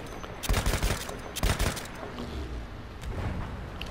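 Machine gun fire in Battlefield 1 comes in two dense, loud bursts followed by a fainter rumble of distant battle noise.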